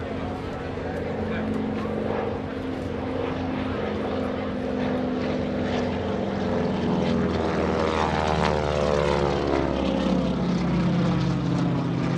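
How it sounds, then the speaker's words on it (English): A propeller airplane performs a victory roll at the 2016 NAS Oceana airshow, its engine drone loud and continuous with the pitch shifting as it passes, while a voice speaks over it. "This is the traditional victory roll."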